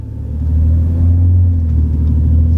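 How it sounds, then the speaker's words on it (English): Low, steady engine rumble of a BMW car driving, rising in the first half second and holding a smooth hum with a slight pitch shift midway as it moves into second gear. "let me go ahead and try driving my car for the first morning"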